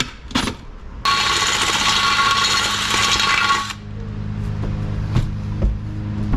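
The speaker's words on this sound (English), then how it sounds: "I'm gonna try to drill this as straight as possible." A power drill whines steadily for a few seconds drilling out a stripped oil pan drain hole on a BMW 5 Series, bracketed by clicks and metallic taps before and after.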